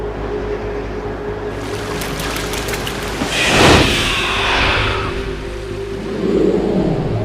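A vehicle runs across water in the PS2 game Metal Gear Solid 2: Sons of Liberty, a loud rushing, splashing swell that builds midway over a low rumbling background.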